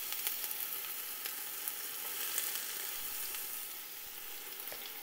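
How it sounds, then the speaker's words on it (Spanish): Onion and garlic sautéing in a pot for a minestrone-style bean soup, a soft steady sizzle with faint crackles and scattered ticks, fairly quiet and even throughout with no talking. "aquí vamos a poner la cebolla, a sofreírla"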